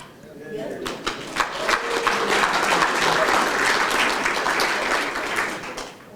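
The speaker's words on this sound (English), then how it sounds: "That was cheap applause," An audience applauds at a stand-up comedy show, clapping that swells in after a moment and holds thick and steady, with a voice talking faintly underneath at the start.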